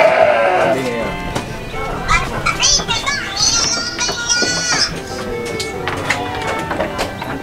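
Sheep bleat repeatedly in a pen at a farm housing crossbred breeding sheep, with voices talking and children's chatter mixed in throughout.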